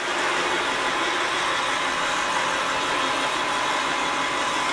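A 36-inch used Blanchard model 18-36 vertical-spindle rotary surface grinder runs with its wheel spinning, a loud steady broadband machine roar with a constant hum and no pauses.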